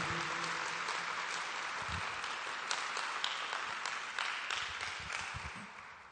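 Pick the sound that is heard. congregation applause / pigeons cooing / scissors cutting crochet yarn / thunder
congregation applause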